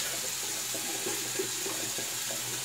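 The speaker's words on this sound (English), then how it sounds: "I ran some warm water." Warm water runs steadily from a bathroom tap while a shave is being prepared, a constant hiss and splash at close range with faint clinks underneath and no talking.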